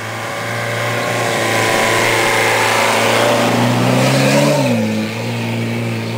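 Field car engine revving hard while stuck driving through muddy woods after rain, a loud steady drone that climbs in pitch, then dips and recovers as the wheels struggle.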